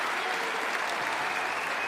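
A crowd applauds steadily throughout a professional squash match at the British Open, a dense, even patter of clapping at moderate distance with no break.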